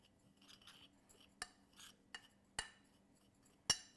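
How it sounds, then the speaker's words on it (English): Teaspoon back pressing and mixing brown sugar in a small bowl, breaking up clumps: a few sharp, separate clinks of metal on the dish spaced a second or so apart, over quiet soft scraping and a low steady hum. "So I'm gonna mix this together just with the back of my teaspoon."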